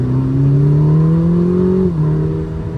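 A Ferrari 849 Testarossa accelerating downhill at Sonoma Raceway, a loud, steady engine drone rising gradually in pitch, then a brief dip as if shifting, heard from inside the car with no talk.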